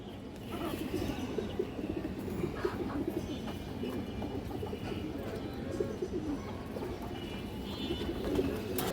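Several pigeons of local fancy breeds coo softly and repeatedly at close range, their low, throaty calls overlapping against a rustling background.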